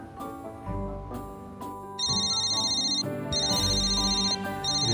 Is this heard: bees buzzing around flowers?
no